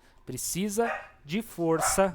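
A female dog gives a few close, high yips and barks in a quick, uneven series.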